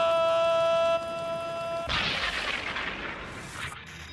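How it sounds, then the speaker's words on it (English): An electronic tone gives way to a helicopter's heavy explosion with a long rumbling, crackling decay, loud and close. "Did you see that freaking chopper explode?"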